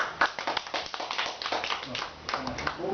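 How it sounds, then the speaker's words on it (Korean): A small group at a support-group meeting claps their hands in a short burst of applause, uneven close-up slaps over about three seconds, mixed with a few voices talking. "박수."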